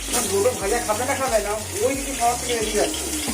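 Shapla (water lily) chops fry in oil with a constant crackling hiss, while a person talks over the cooking throughout.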